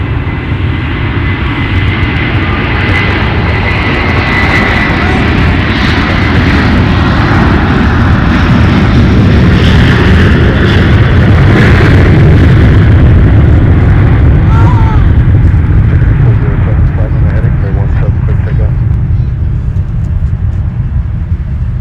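A jet airliner climbs out and turns after departure from Minneapolis–St. Paul airport on a winter night, its engines a loud, steady broadband roar throughout, with faint radio-like voices underneath.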